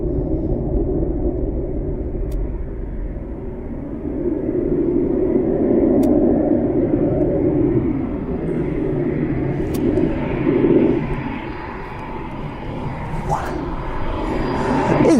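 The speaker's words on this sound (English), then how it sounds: "Now that's what we've been hoping for, performance takeoff." Light aircraft making a performance takeoff at an airfield, a loud sustained engine roar and rumble that swells and shifts over about fifteen seconds, with no voices over it.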